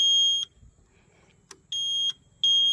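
A restored Yamaha RX 100 gives three loud, steady electronic beeps when its key is switched on, each lasting about half a second, separated by short gaps with a brief chirp between the first two.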